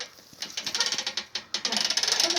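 A hand crank raises the mechanism of a chainsaw mill in the Maine woods, giving a quick, even run of close ratchet clicks with a brief pause partway through.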